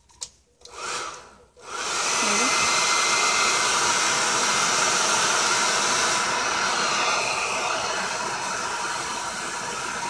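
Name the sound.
hair dryer blowing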